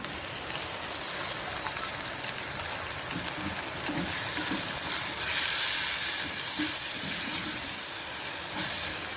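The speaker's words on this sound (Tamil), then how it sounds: "இப்போ சரியான சக்க மழை பெய்யுது" Heavy rain falls over Jaffna, a dense, continuous hiss that holds steady and close for the whole stretch, with no voices.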